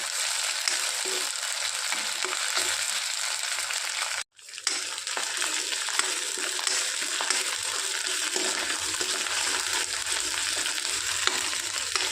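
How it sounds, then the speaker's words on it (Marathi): Green chillies sizzle and crackle steadily in hot oil with garlic and onion, a continuous close frying hiss for pigeon pea chutney, with a brief dropout partway through before the sizzling resumes. "आपण त्यामध्ये मिरची टाकू आणि हे छान परतून घेऊ"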